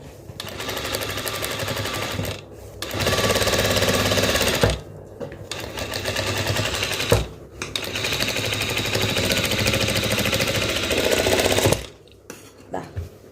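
Fast mechanical stitching of a sewing machine sewing the neckline of a crop top, running in long loud bursts with brief pauses between runs.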